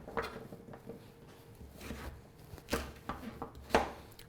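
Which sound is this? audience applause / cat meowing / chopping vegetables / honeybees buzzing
chopping vegetables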